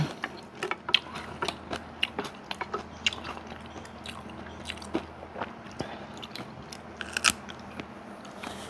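Crisp, crunchy bites and chewing on bitter neem (sadao) shoots dipped in sweet fish sauce, close to the mic, irregular sharp crunches spread throughout with no talking.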